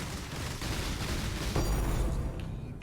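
Rapid volley of bow shots from the Barrage skill in Path of Exile, loud and dense with layered impacts and a heavier hit midway, no talking.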